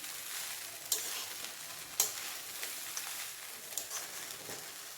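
Flattened rice (poha) stirred in a pan over a low gas flame, soft gentle sizzling with a few sharp spoon scrapes against the pan, quiet and close with no talking.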